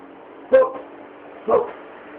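A dog barking during a rehearsal of a theatre play: two short, close barks about a second apart, each followed by a brief softer yelp, over a low steady background hum.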